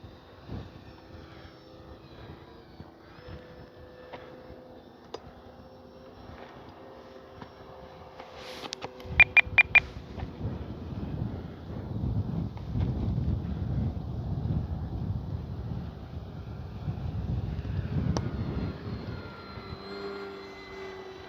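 An E-flite Cherokee RC model airplane flies in gusty wind, its small electric motor droning steadily at a distance under heavy wind buffeting on the microphone, with a few sharp clicks partway through.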